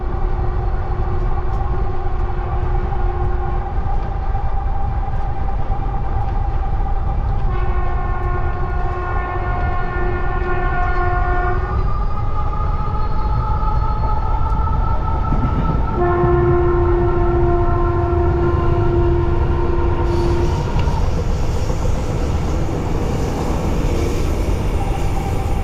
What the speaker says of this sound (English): train arrives just in time